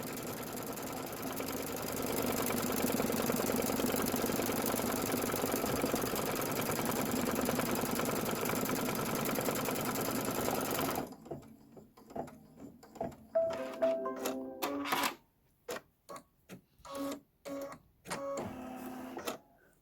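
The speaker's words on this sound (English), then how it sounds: "we're just going to go ahead and stitch. And this is step 4, which is stitch the foundation tack down line." A sewing machine stitches a tack-down line on an embroidery project, humming in one steady run for about eleven seconds, then going quiet except for a few short bursts of mechanical whirring and clicks.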